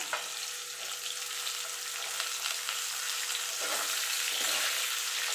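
Ridge gourd and potatoes fry in a pan, giving a steady, close, continuous sizzle with light stirring throughout and no talking.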